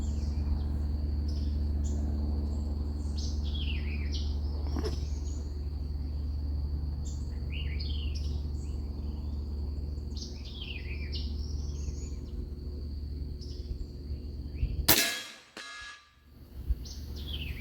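A Hatsan Bullpup .357 air rifle fires a single 81-grain JSB pellet at a target 15 yards away. The sharp crack lands near the end, after a long stretch of quiet outdoor ambience with chirping birds.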